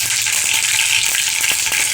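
Mustard seeds hit hot oil for a brinjal curry and burst into a loud, dense, continuous sizzle with fine crackling pops, close up and without voices.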